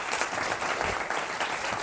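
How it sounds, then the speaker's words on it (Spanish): An audience at an academic lecture breaks into steady applause, dense and continuous clapping throughout the brief moment with no voices. "un aplauso a Manuel García"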